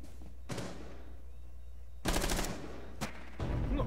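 Bursts of rapid automatic gunfire, several short volleys with gaps between them, loud and close in a game setting.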